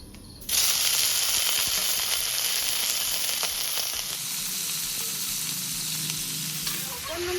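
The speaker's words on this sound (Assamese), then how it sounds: "কেৰাহী গৰম হল এতিয়া মাংসখিনি মই দি দিওঁ" Pieces of pork dropped into a hot wok with no oil, erupting into a loud, steady sizzle and hiss after a brief quiet moment, then settling into continuous frying with faint stirring scrapes.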